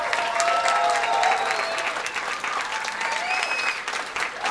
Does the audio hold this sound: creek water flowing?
no